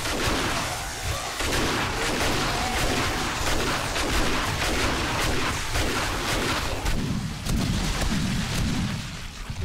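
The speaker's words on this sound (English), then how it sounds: "I think this calls for shotgun." Shotgun fire in the survival video game 7 Days to Die comes as a loud, continuous barrage of booming blasts that fills the whole stretch with little break.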